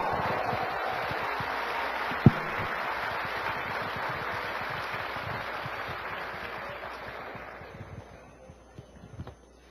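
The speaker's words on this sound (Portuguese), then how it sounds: "Então dê um forte salva de palmas para Jesus" Dense applause from a church congregation at an evening conference service fills the space steadily, with one sharp louder crack early on, then gradually thins and fades toward the end.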